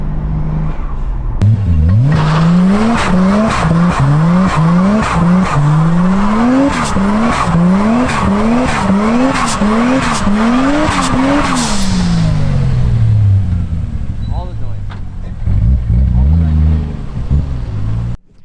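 A turbocharged Toyota JZX100 Chaser roars on a dyno, its loud engine note climbing and dropping again and again in rapid rhythmic surges, then winding down to a lower idle near the end.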